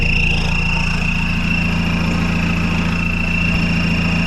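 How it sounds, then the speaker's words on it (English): Mahindra Roxor on 38.5-inch Boggers with a very low first gear idles steadily from close underneath the vehicle, a loud continuous low engine rumble with an even vibration and a faint high whine, with no talking. "while I'm laying under this running vehicle"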